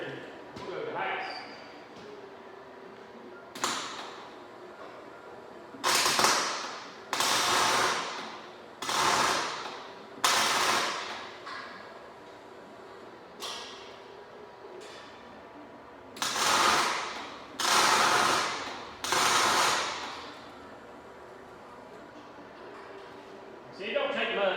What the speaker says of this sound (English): Let's get these things welded in here and we'll go to the house.